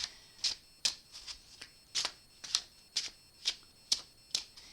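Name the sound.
shuffling tarot cards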